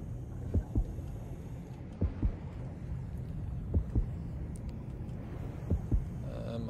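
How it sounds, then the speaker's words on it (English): Paired low thumps of a video game heartbeat in the game Depth, four double beats spaced about a second and a half apart, over a low rumbling drone. "hear my heart beating, starting to come"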